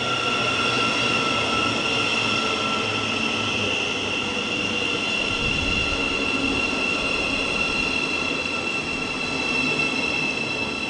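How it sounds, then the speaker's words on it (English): A Thameslink Class 700 electric train runs through West Hampstead station, a sustained loud rumble of wheels on rail with high steady whining and squealing tones, close and continuous, with a deeper low surge midway. "Meanwhile, here's another Thameslink train."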